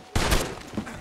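Gunfire in Red Dead Redemption 2, a loud burst of close shots crashing in at once and ringing on in a dense, noisy wash, no talk.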